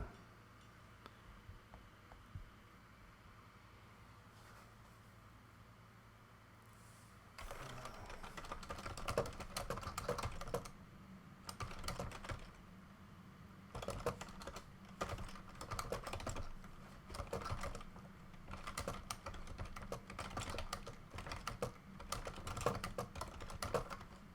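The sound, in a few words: typing on a computer keyboard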